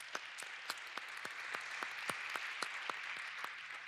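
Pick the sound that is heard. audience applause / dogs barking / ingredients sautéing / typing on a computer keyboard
audience applause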